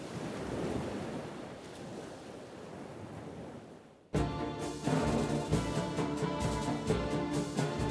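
Ocean surf rolls and breaks with a broad, wind-blown wash for about four seconds. The waves then cut off abruptly and loud music takes over for the rest.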